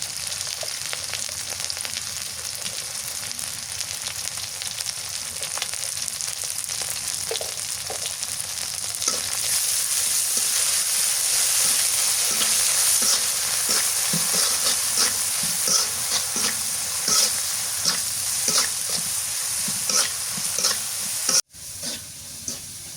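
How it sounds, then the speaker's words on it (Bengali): Dried fish, chilies and onion fry together in hot oil, giving a dense, continuous sizzle and crackle close by that grows slightly louder midway, with no talking. "শুটকি মরিচ পিঁয়াজটা একসাথে ভাজলে ভালো লাগে"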